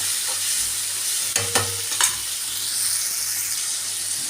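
Dried fish sautéing in a pan for a Tamil karuvadu curry, a constant close sizzle with a few short stirring scrapes and clinks near the middle.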